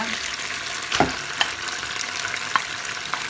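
Chicken sizzles steadily in a hot pan while cooking chicken panang curry, with a few sharp clinks of a utensil stirring and scraping at intervals.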